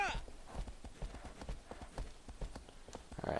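Horse hooves clip-clopping in the video game Shadow of the Colossus, a steady rapid trot of close, soft thuds, with brief talk at the edges.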